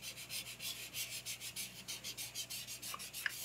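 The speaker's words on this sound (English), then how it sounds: "Using my fingertips to gently rub out where I made the charcoal a little darker and shaded." Fingertips rub and blend charcoal on drawing paper for a portrait of a human face, a soft rhythmic scuffing in steady strokes, close and quiet, with a couple of faint taps near the end.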